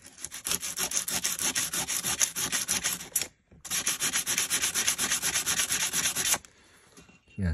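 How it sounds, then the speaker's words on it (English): Coarse 60 grit sandpaper rubs against an unmarked hardware-store sharpening stone in quick back-and-forth strokes, a close, harsh scratching that runs in two long bursts with a short break between them. "Let's see what 60 grit does."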